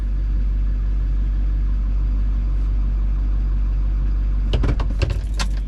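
A truck engine idles steadily and loudly up close, a constant low rumble throughout, with a few brief clicks and knocks near the end and no talking.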